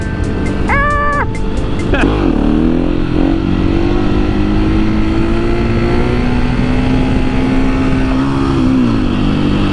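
Close, loud motorcycle engine revving and pulling hard in second gear while the rider does wheelies, the pitch climbing and holding steady, with a short rev burst near the start.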